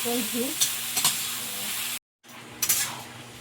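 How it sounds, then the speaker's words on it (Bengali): A spatula scrapes and stirs vegetable curry in a pan, a few sharp scraping strokes over a steady sizzle of frying, with a brief cut to silence before the stirring resumes. "ঢাকাটা খুলে নিয়ে একটু খুন্তি নাড়লাম"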